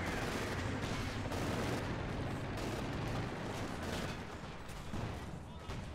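A support gun fires in the World War II strategy game Company of Heroes 2, with dense overlapping booms and gunfire rumbling continuously throughout, loud and unbroken, easing slightly toward the end.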